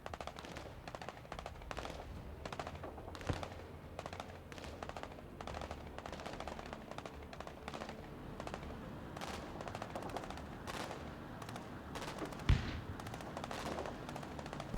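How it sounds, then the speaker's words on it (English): Troops in the strategy game Broken Arrow fire a steady, distant crackle of machine-gun and rifle shots throughout, quiet but continuous, with one sharper report near the end. "Oh yeah, they are firing."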